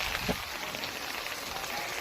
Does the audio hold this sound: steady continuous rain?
yes